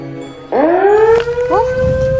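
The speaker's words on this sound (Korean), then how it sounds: "난데없이 울려 퍼지는 사이렌 소리." A siren swoops upward and holds a steady wailing tone, then rises again, loud and fairly close, with faint background rustle.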